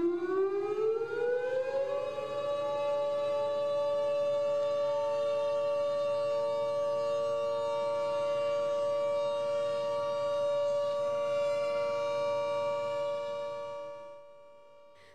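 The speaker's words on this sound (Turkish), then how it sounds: "Saat 9'u 5 geçe tüm yurtta sirenler çaldı." A civil defense siren wails alone, rising in pitch over the first two seconds and then holding a loud, steady tone for over ten seconds before fading at the end, sounded nationwide for an Atatürk commemoration in Northern Cyprus.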